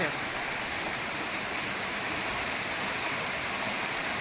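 Heavy monsoon rain pours down in a Saurashtra village, a dense, even wash of hiss and patter that stays loud and unbroken from start to finish.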